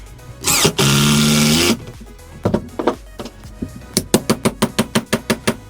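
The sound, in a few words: driving a screw into wood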